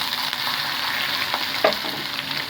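Cumin, onion, garlic and dried chili tempering sizzling in hot oil for a tamarind-leaf dish, a steady close frying hiss with a brief stir or clink partway through.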